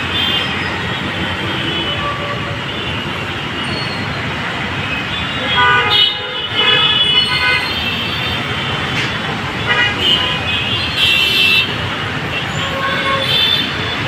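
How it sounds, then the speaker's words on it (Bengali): Heavy traffic jam on the Mahakhali to Jahangir Gate road in Dhaka, a loud steady roar of engines with repeated car horn toots rising over it, heard from an overbridge. "মহাখালী থেকে জাহাঙ্গীর গেটের রোড প্রচুর জ্যাম রাস্তায়।"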